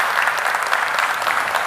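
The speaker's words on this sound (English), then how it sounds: "give the faculty and the staff and the administrators here a round of applause too" Brief, loud, dense applause comes from an audience at a university talk, a continuous wash of clapping with no voices over it.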